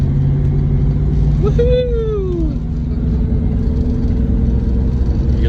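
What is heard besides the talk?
manual transmission car pulling away as clutch released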